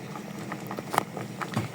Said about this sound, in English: Our okra soup boiling.